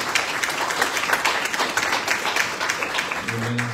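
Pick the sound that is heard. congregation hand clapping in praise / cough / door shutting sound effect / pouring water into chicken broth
congregation hand clapping in praise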